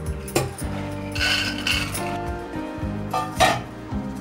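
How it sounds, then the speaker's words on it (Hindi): Dried lentils go into a metal pressure cooker in a home kitchen, with scattered metallic clinks and rattles of the pot over a few seconds, close and fairly loud. "अब मैं इसके अंदर डालूंगी दाल।"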